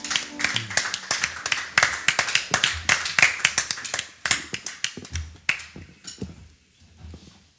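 Clapping from a church congregation, quick crisp handclaps in an irregular, lively rhythm that build, then thin out into scattered claps and fade toward the end.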